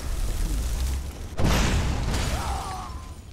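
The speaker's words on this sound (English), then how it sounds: "I like those elemental explosions" Elemental spell explosions in Skyrim, the fantasy role-playing game: a sudden booming burst with a crackling, hissing tail that lingers over a constant rumbling background, followed by faint magical whooshing tones.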